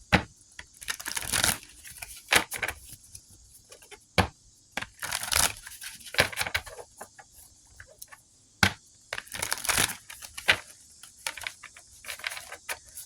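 Crisp papery riffles and soft slaps of a tarot card deck being shuffled, in quick bursts with brief pauses, close by and without any talking.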